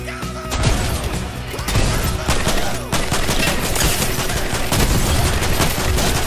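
Dense, loud Fortnite gunfire rattles almost without pause, rapid automatic bursts and heavy impacts layered over each other in a chaotic in-game firefight.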